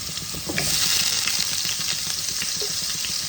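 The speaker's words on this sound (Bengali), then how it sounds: "এবার আমি আলুগুলোকে ভেজে নেব।" Potatoes frying in oil for ghugni, a steady bright sizzle that swells after a brief quieter start, with faint scraping and stirring knocks running through it.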